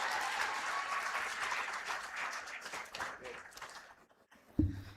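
Applause at a graduation ceremony: a crowd claps steadily and fairly far off, then thins out and fades, ending with a brief thump.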